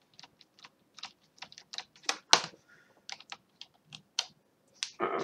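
Computer keyboard keys pressed in irregular bursts of sharp clicks, close and fairly quiet, with pauses between strokes and a louder clatter near the end.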